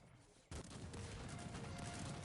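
Cannon fire in the real-time strategy game Cossacks 3, with a dense barrage of overlapping booms and crackling shots starting abruptly and continuing steadily, fairly loud and close.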